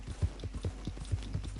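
Horse hooves clip-clop at a steady walking rhythm in Red Dead Redemption 2, a series of soft, fairly close thuds with a faint background ambience and no talking.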